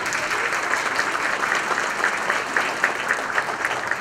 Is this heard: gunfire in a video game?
no